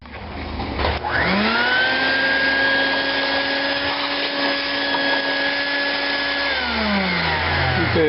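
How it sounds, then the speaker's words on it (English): A vacuum cleaner switches on, spins up to a loud steady whine, runs for several seconds, then winds down at the end. "I'm going to get my vacuum out first and clean the area."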